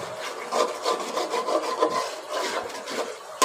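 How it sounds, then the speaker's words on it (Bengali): A spoon scrapes and stirs roast or biryani spice masala as it fries brown in a pan, giving close, uneven rubbing strokes that carry on without a break. "এটা একেবারে নাড়াচাড়ার মধ্যে রাখতেছি, কারণ যাতে নিচে দাগ না লেগে যায়, পুড়ে না লেগে যায়"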